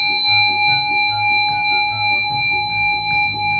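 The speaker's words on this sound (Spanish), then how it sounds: "Es el sonido de una campana." A sustained ringing tone with steady high overtones pulses rhythmically, like a bell struck repeatedly, loud and close.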